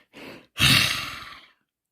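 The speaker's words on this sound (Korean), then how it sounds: "숨소리예요." A short intake of breath is followed by a longer, louder exhale like a sigh, close to the microphone and heard alone.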